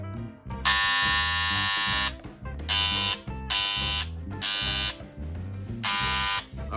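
Ferrex electric engraving tool buzzing in repeated bursts, a long first run then several shorter pulses of a few seconds each with brief pauses between, loud and close with no talking.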